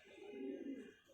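A pigeon from a Lahore fancier's flock gives a single low, throaty coo, soft and close, lasting about a second.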